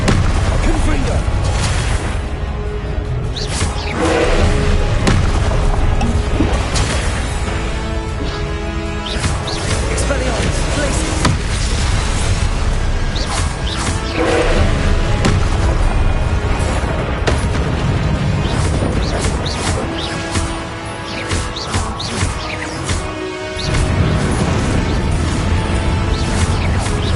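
Blasting-spell explosions in Hogwarts Legacy thud and boom repeatedly amid loud continuous game music and effects, with a voice speaking over the combat.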